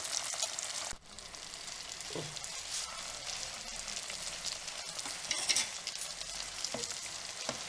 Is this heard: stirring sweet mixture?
yes